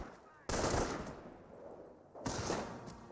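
Infantry squads trade gunfire in Company of Heroes, World War II strategy game combat: two sharp loud bursts of rapid shots, each decaying into a crackling rumble of continued distant fire.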